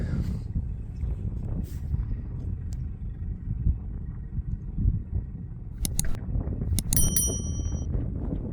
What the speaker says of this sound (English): Oh, that's a cold wind.